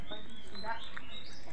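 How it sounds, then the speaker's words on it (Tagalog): Birds chirping and calling around a rural farm, a few short bright tweets at moderate distance over a steady outdoor background. "Daming ibon."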